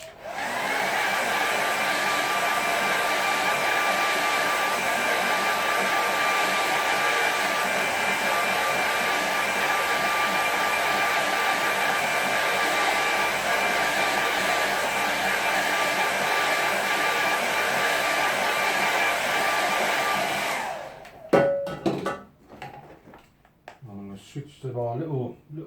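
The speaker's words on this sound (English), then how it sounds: "Quick air dryer." A hair dryer blows over a watercolor painting, giving a loud, steady whooshing drone with a constant whine that runs for about twenty seconds before it cuts off, leaving some brief handling sounds.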